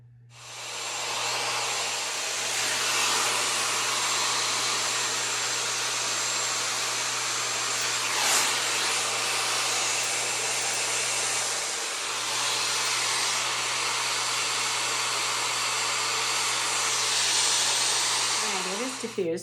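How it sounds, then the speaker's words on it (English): A hair dryer fitted with a diffuser runs steadily while drying curly hair, a loud continuous whir with a low hum that holds for the whole stretch, shifting slightly as it moves. "I actually lift my hair off my scalp before I start to diffuse"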